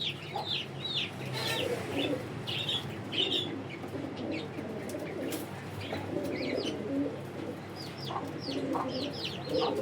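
Domestic high-flying pigeons gather with steady cooing and soft fluttering, while bright bird chirps ring out above a continuous, close, moderately loud backdrop.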